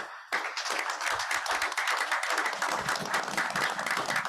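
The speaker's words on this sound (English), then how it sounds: "I want to give a round of applause to everybody who has stood by the people who've been elected" An audience at an annual organization meeting breaks into applause, with sustained clapping that starts suddenly and stays loud and dense, many hands together in an indoor room.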